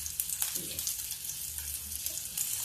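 Besan-coated bitter gourd (karela) frying in oil gives a steady, close hiss and crackle. The sizzle carries on throughout, with a few faint clinks.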